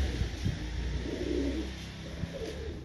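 Pigeons cooing in sunlight, low soft coos repeating over a steady background hum, several birds close by.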